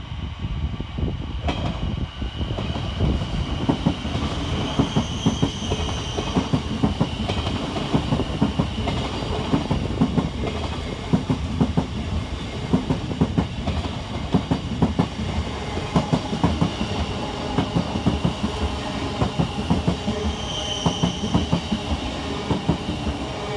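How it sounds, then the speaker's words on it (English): A Govia Thameslink Class 700 electric multiple unit runs through Bowes Park station on its way from Cambridge to Brighton, with loud, continuous rumble and rapid clickety-clack of wheels over rail joints as the carriages pass close by. "And coming the opposite way for Govia Thameslink is 700103, working 9 Sierra 17 from Cambridge to Brighton."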